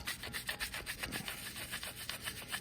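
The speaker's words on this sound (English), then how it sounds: "if you get in there and scrape a little bit" Scraping and brushing Super Clean degreaser off a John Deere engine makes a steady, close, rhythmic rasping of repeated strokes at a quiet level, with no talking.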